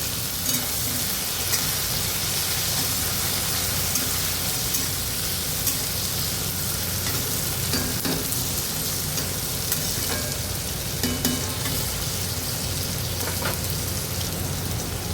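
Potato pieces fry alongside green beans in a pan, giving a steady, dense sizzle like light rain that runs unbroken and fairly loud, with occasional soft scrapes of stirring and no voices.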